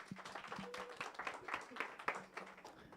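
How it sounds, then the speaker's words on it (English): A small audience at a corporate campaign launch claps in scattered, uneven bursts, fairly faint and thin throughout. "Please do welcome him with a round of applause."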